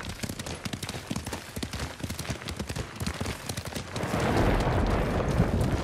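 Horse hooves gallop in Ghost of Tsushima, a rapid, rhythmic clip-clop of a running horse, close and loud, giving way to a rougher rushing wash of noise near the end.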